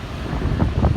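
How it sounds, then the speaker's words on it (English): Strong gusting wind buffets the microphone on an exposed outdoor route, a steady low rumble that swells in heavier gusts toward the end, with no voices. "It's very windy today"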